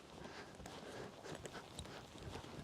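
A young horse being ridden at a walk, its hooves clip-clopping in a steady, moderately close rhythm over continuous background noise.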